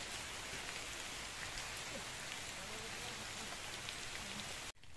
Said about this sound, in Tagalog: So yun guys, medyo nabutan tayo ng ulan. So nabasa na tayo.